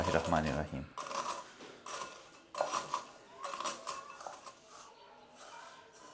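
Plain cream-free biscuits are crushed by hand for a cheesecake base, producing a series of crisp crunching and rattling bursts close by, after a brief spoken moment at the start.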